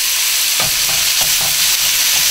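Onions fry in a pan for jalapeno and onion stuffed pork loin chops, a loud, constant close sizzle broken by a few soft stirring scrapes.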